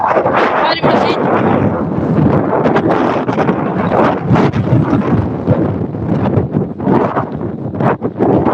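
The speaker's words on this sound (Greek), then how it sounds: "Κοίτα πόσο φυσάει." Strong wind pounds the microphone outdoors in Chania, making loud, continuous rumbling gusts and buffeting that partly cover people talking.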